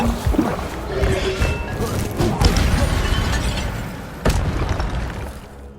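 Incendio fire spell impacts in the video game Hogwarts Legacy: loud booming bursts and crashing hits, one sharp blast near the end, over a busy rumbling background with game noise.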